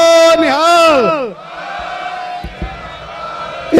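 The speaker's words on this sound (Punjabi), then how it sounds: "ਮੈਂ ਜਕਾਰਾ ਬੁਲਾਉਣ ਲੱਗਾ, ਦੋਨੋਂ ਹੱਥ ਜੋੜ ਕੇ ਜਵਾਬ ਦਿਓ" A single loud, drawn-out shouted call is answered by a large crowd roaring the Sikh jaikara response, which fades into a broad, sustained murmur, at the Qaumi Insaaf Morcha protest in Mohali.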